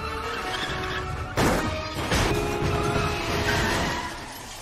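A race car crash from the animated film Turbo: engine roar is broken by two sharp impact bursts, followed by skidding and mechanical clatter from other cars caught up in the wreck.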